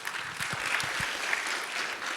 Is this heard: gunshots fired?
no